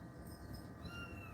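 A house cat meows indoors at feeding time with kibble about, a short faint mewing call that sits under steady background hiss.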